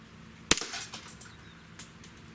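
A single sharp gunshot from a SIG Sauer Emperor Scorpion 1911 pistol during an accuracy test, loud and close, with a brief echoing tail fading over about a second and nothing else around it.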